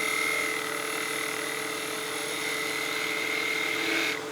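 A 3/8 spindle gouge cuts wood on a spinning lathe while turning a spinning top, giving a continuous steady whirring hum with a sustained tonal whine that drops away at the end.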